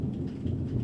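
Thunderstorm with heavy rain and low rumbling thunder, a dense continuous wash of rainfall under a deep steady roar, brief and loud with no voices.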